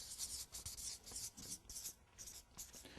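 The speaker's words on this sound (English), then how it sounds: "so let's write it down" Pen or pencil scratching across paper in short, quick strokes, close and quiet, with a soft rubbing texture and no voices.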